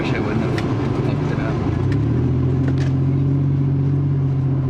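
A car running on new spark plugs drives along with a steady low engine hum and road rumble from inside the cabin, rising slightly in pitch partway through, with faint knocks and rattles over it.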